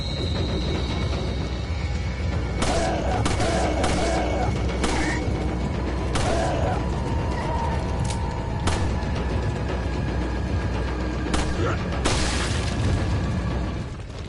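Gunshots ring out in Resident Evil 4 (2005) during a fight to rescue Ashley, a series of sharp, loud cracks at irregular intervals over steady ambient rumble, with booming reports mixed in.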